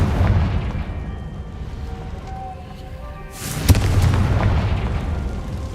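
A Confringo spell explosion in the Hogwarts Legacy video game, one sudden booming burst midway that rumbles on after a quieter, hushed lead-in.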